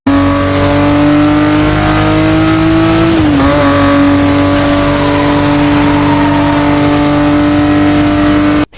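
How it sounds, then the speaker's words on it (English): BMW E46 with stock engine in Need for Speed Most Wanted, a loud steady engine drone with a brief dip and shift near three seconds, then holding an even pitch until it cuts off. "engine sound off Bmw E46 in? Need for Speed Most Wanted."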